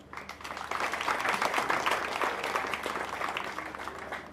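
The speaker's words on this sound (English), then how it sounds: "could you please give us a round of applause?" Audience applause at the launch of a transport company's travel card in Kanifing, Gambia, swelling from quiet to a sustained, dense round of clapping that holds and slowly eases off.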